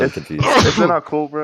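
A single sharp sneeze bursts out among several people talking on a podcast, brief and close, with voices continuing right around it.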